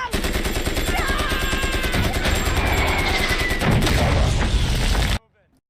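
An MG-42 machine gun fires in a film scene, a dense, rapid, loud stream of shots layered with battle noise and shouting voices, stopping suddenly after about five seconds.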